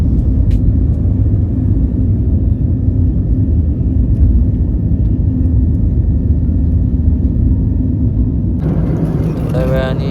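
Steady, loud cabin drone of an Air India flight from Delhi to Mumbai, a deep constant engine rumble and airflow roar filling the whole stretch, with a brief higher whistling tone entering near the end.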